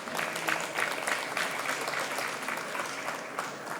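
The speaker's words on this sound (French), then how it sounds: "Sous vos applaudissements, s'il vous plaît." A live audience at a French start-up pitch competition applauds steadily, dense clapping sustained at an even level throughout with no voices on top.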